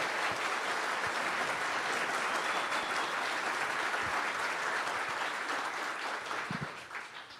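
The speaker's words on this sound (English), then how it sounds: "big round of applause for Dinesh real quick." A watch-party crowd at a debate event gives a big round of applause, a dense, sustained wash of clapping that stays loud for several seconds before starting to taper at the end.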